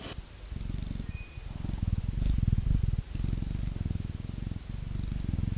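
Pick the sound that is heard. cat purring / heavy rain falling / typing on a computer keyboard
cat purring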